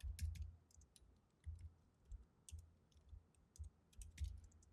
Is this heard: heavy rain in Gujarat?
no